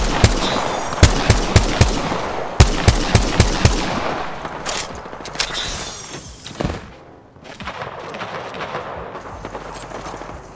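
Rapid bursts of automatic gunfire crack in Apex Legends on Kings Canyon, close and loud in quick volleys, then thinning into scattered shots and distant firing as the fight continues.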